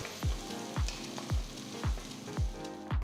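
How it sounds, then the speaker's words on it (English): Garlic, ginger and thinly sliced onion sauté in oil in a wide wok, giving a steady sizzle with a regular deep thud roughly every half second. No one speaks. "Saute the ingredients for about 2 minutes."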